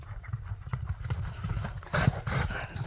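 A Kyrgyz horse runs on the ground, its hooves thudding in a quick, rhythmic clip-clop at moderate distance, with a louder burst of hoofbeats near the end.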